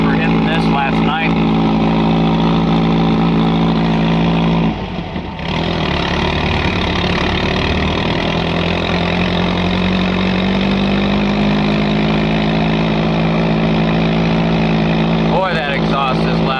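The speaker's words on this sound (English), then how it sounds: "Boy, that exhaust is loud." A car engine with a loud exhaust, presumably lacking a working muffler, drones steadily and close throughout, with a brief dip partway through and a voice speaking over it.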